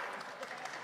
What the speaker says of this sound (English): each guest needs to have that much cheering